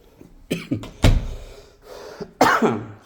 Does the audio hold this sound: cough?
yes